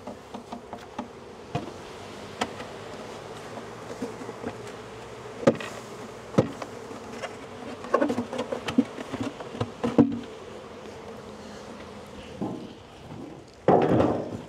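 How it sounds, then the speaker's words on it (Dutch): Honeybees in a hive box make a close, steady buzz throughout. Sharp knocks and wooden bumps from handling the box break in now and then, growing busier toward the end. "Nu hebben we een overvloed aan bijen in deze bak zitten."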